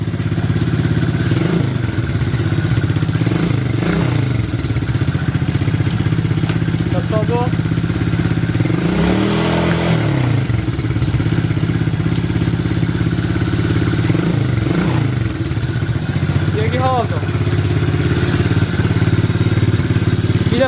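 Small 110/125 cc quad bike engine running steadily after a start attempt, a loud continuous mid-pitched idle with occasional revving surges, close to the microphone and persisting throughout.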